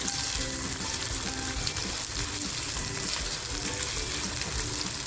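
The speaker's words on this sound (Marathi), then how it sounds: "हा कांदा आहे ना जास्त गोल्डन होईपर्यंत नाही मऊ होईपर्यंत फ्राय करायचं आहे" Thick-sliced onion frying in a pan for a paneer dish, a steady, loud, dense sizzle that runs unbroken throughout with a faint scraping beneath.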